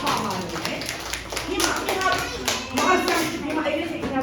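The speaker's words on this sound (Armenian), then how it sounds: "բոլորը ծափահարում են" Children in a classroom clap together, a dense, continuous patter of many small hands at close range, mixed with children's voices and an adult speaking over it.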